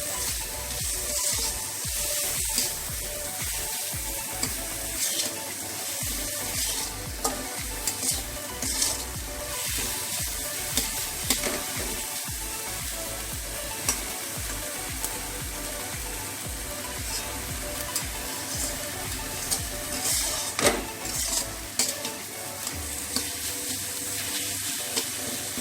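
Masala with ginger, garlic and a tablespoon of sugar sizzles steadily in a pan as it is fried and stirred, a continuous close crackle with occasional scraping and no voices.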